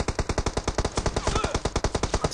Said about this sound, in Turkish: Yukarıdaki de ateş ediyor bana.